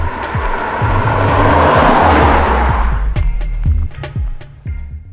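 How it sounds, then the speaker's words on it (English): A 2014 Jeep Cherokee V6 accelerates hard with a loud rising engine roar and a broad rush of noise, then the roar eases as repeated low thumps carry on underneath. "thanks to the sound of that meaty V6 when you're working it hard"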